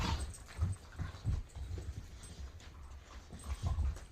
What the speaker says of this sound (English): WrestleMania in the Koester house with the dogs.